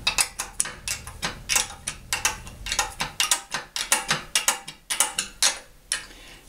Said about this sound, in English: my bolts are 1/2 inch. Then just tighten.